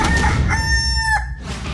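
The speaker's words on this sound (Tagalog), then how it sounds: "Ang hybrid chicken na ito, sa Cavite lang matatagpuan?" A hybrid chicken crows once, loud and close, with a few clucks mixed in over a noisy background.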